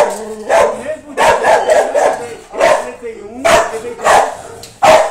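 Dogs bark in repeated bursts throughout, loud and close, while a person speaks over them.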